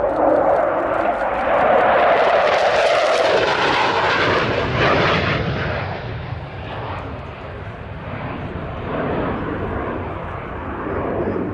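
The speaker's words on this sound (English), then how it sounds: "the Sea Vixen comes into land" de Havilland Sea Vixen jet aircraft flying past, a loud broad roar that swells and sweeps in pitch as it passes, then settles into a sustained fading rumble.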